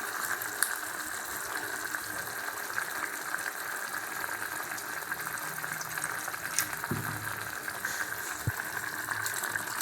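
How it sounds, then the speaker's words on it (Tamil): Tamarind solution poured into a hot pot of peanut and turkey berry tamarind kuzhambu, giving a steady watery sizzle and bubbling hiss with a few soft clinks, close by and with no talking. "இது நம்ம புளி கரைசலை ஊற்றிடலாம்."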